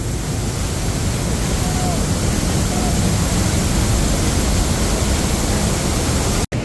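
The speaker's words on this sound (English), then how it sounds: "And on top of El Sapo Waterfall as well, check out the horseshoe right there" El Sapo Waterfall roars in a steady, dense, broadband rush, loud and constant, heard from close by with no clear voices, ending with a brief dropout.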